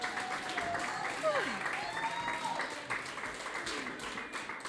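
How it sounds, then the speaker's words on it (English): Crowd at a local idol singing competition claps for the contestants, moderate applause continuing under background voices and some sliding tonal sounds, fairly distant and even. "Let's have a round of applause for the South 2021."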